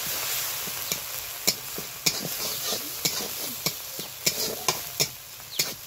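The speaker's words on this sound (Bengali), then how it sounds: "এই মশলাটা একটু খুব ভালো করে কষিয়ে নেব।" Spice masala with meat masala being stirred and fried in a little oil, with a steady soft sizzle and repeated sharp clicks of a spoon against the pan at an uneven rhythm, close by.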